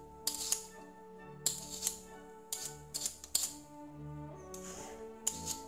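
Peeled potatoes being cut into small cubes with a knife, a run of sharp, irregular chopping knocks in close, clustered bursts over a faint steady background hum.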